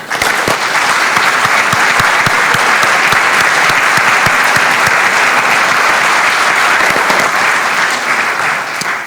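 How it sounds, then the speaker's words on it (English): A crowd at a county legislature budget address applauds steadily for its members, a dense, loud, unbroken clapping that lasts throughout and eases slightly at the end. "please give these hardworking individuals a round of applause"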